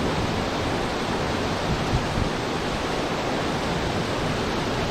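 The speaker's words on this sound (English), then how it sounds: "This is quite as steep of a gradient of a waterfall here" A steep mountain waterfall on Jack's Rake in the Langdale Pikes roars in a dense, continuous rush of falling water, loud and close, with no other sounds or voices.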